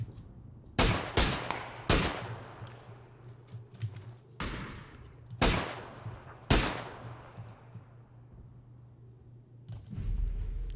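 Gunfire in the battle royale game PUBG on a winter map: several sharp, separate shots ring out at irregular intervals, each trailing off in a short echo over a low engine-like hum.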